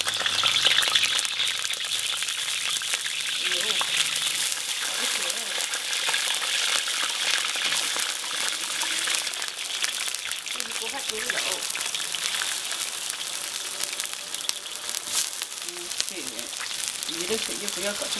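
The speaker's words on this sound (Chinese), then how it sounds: "来，下鱼开始煎。" Several crucian carp frying in a pan of hot oil give a steady, loud broadband sizzle and crackle throughout, with a person talking over the cooking.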